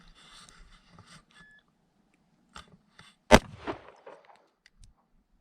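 A single sharp pistol shot during a shooting drill, loud and close, followed by faint clatter and rustling in an otherwise quiet range.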